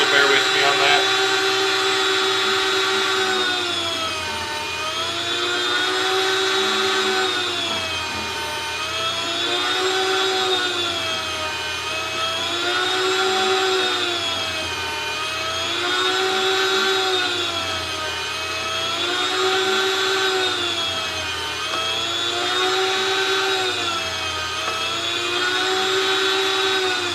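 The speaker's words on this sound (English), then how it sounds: "Got our meat slicer set." Electric meat slicer cutting smoked roast beef: a steady loud motor whine that swells and dips in a regular rhythm as each slice passes the blade, repeating about every three seconds, close up.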